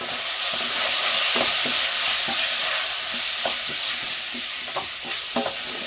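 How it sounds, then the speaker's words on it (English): Ginger stirred into a hot frying pan for chicken curry, a loud steady sizzle with a string of soft spoon taps and scrapes against the pan, close and with no voices. "A quick stir."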